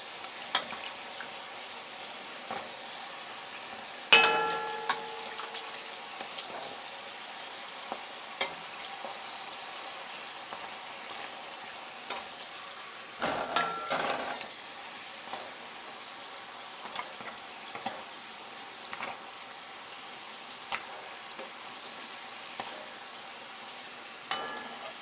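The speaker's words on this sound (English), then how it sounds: "And these doesn't take very long to fry." Stuffed bake dough, a Guyanese fried bread, fries in hot oil with a steady quiet sizzle throughout, broken by occasional sharper crackles and a couple of louder clatters, with no voices.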